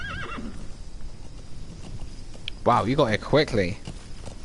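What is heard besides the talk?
horse neighing and hooves, video game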